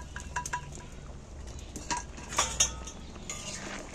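A spoon stirs lentils, egg and pointed gourd together in a cooking pot, giving quiet scraping with a few light metallic clinks against the pot.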